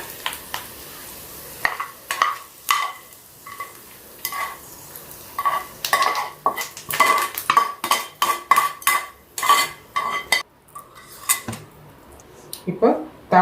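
White pumpkin curd curry: a tempering with curry leaves is tipped into curd and stirred, giving a steady run of close spoon clinks and scrapes against the bowl, sometimes in quick bursts.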